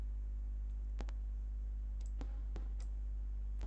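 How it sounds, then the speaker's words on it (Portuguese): Two quick, sharp computer mouse clicks, a double-click, come first, then a few more isolated clicks over a steady low hum while someone works in a spreadsheet. "Vou colocar o cursor aqui entre as colunas e fazer um duplo clique."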